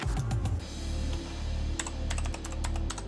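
Keys clatter on a computer keyboard during network setup, a quick burst of clicks at the start and scattered keystrokes later, close and fairly clear over a steady low hum.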